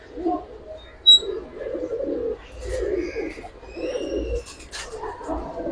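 Indian Kaldam high flyer pigeons coo in soft, repeated low phrases, close by, with faint chirps and light background noise.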